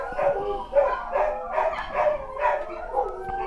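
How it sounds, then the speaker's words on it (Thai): Dog barks in a video game of Thai chess (makruk), a rapid run of about six barks and yips in a regular rhythm, close and fairly loud, without speech over them. "โอ้ยเห่าเว้ยเห่าเว้ย"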